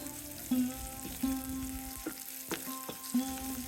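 Small shallots frying in a pan for a fish curry give a steady close sizzle, broken by several short bursts of stirring and spoon scrapes, with a faint tonal hum running beneath.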